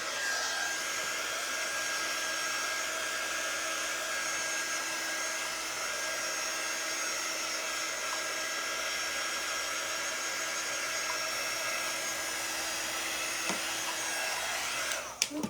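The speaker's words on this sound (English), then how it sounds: "Let me dry up that edge real quick." Close and loud, a hair dryer blows in one continuous steady whoosh while drying the edge of a decorated coaster, with a small knock near the end.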